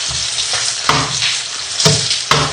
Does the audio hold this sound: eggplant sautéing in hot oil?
yes